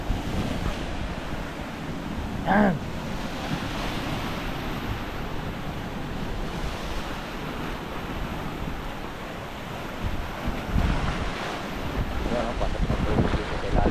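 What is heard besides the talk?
strong storm wind and waves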